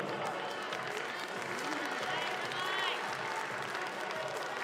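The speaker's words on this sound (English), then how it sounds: "Russian crowd starting to chant, starting to clap." A Russian crowd at a climbing competition final in Moscow makes a steady distant wash of applause, clapping and murmured chanting, with a commentator's voice talking over it throughout.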